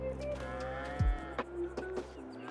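Cattle moo in Farming Simulator 22, a single low, drawn-out bellow rising up beneath a steady bed of ambient farm noise and music.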